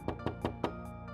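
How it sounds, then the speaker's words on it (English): A front door takes a series of loud, heavy thudding knocks, five evenly spaced blows in quick succession that ring close and hollow, with nobody talking. "we suddenly heard a loud thudding on our front door"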